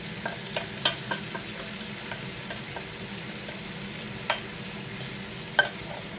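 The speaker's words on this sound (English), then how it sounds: "The leeks and all the butter goes in there." Leeks sizzle in butter inside a Ninja cooker: a low, steady frying hiss with a few sharp clicks of a utensil stirring against the pot, and no speech.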